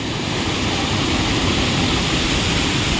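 Rana Jilleda waterfall in Araku valley during the rainy season, a loud, steady roar of falling water filling the whole scene without pause, heard up close with no voices.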